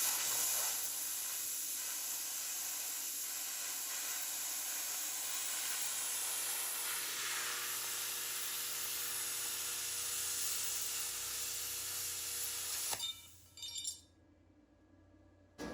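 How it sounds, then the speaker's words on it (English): A YesWelder FIRSTESS MP200 plasma cutter slices through 1/8 inch metal with a loud, steady hissing roar that runs for about thirteen seconds, then cuts off with a few brief sputters. "the plasma mows right through this little stuff"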